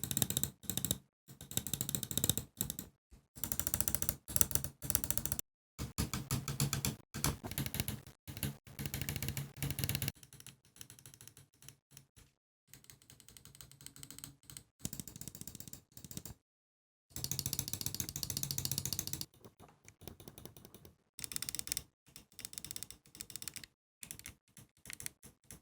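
Glorious Model O Wireless and Model D Wireless gaming mice with Kailh switches click in quiet, close bursts of rapid taps separated by brief pauses.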